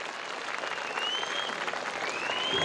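Many hands clap in a continuous, dense round for children at a school annual day celebration in Erode, a crowd applauding evenly and building slightly in loudness.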